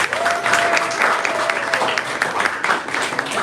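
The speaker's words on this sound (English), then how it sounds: "I would like to give it a big round of applause." Dense audience applause fills a startup award ceremony in Spain, sustained and even throughout the clip with a crowd clapping together.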